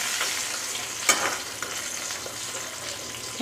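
A large fish head fries in oil in a covered pan, giving a soft, steady sizzle with faint crackles and one sharper pop.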